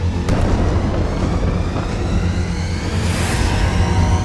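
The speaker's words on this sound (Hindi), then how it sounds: "तीसरा धमाका।" Explosion from a Hezbollah strike, a continuous deep rumbling roar with heavy low-end energy that rolls on steadily, loud and sustained with a brief brighter burst partway through.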